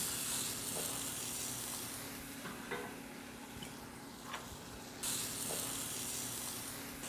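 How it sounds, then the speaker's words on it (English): Chopped green tomato or apples sautéing in a hot pan, a continuous hissing sizzle with occasional faint stirring taps, heard alone at low level. "Then we'll add in our chopped up green tomato or apples, and we'll let that start"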